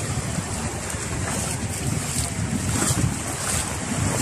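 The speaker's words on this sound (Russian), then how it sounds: "опять катер со стеклянным дном отправляется" A glass-bottom tour boat rumbles steadily as it departs offshore from a beach at Anapa while waves wash in and wind buffets the microphone, no voices.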